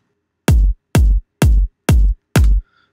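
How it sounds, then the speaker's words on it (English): Electronic kick drum layered with a top kick, five heavy, booming hits evenly spaced and played alone, each with a sharp attack and a short deep decay. "So, a kick and the top kick together sound like this."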